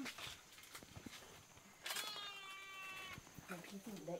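A cat meows in rural Vietnam, where people are living in a pigsty after their house collapsed. It gives a drawn-out, harmonic meow in the middle, with shorter cries near the end, while people talk around it.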